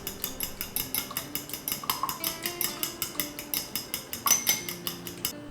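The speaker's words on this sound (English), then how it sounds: "And meanwhile we can beat 1 egg." A single egg is beaten in a bowl for gnocchi dough, producing a quick, regular series of sharp utensil clicks against the bowl, around four per second, close and clear with no talking.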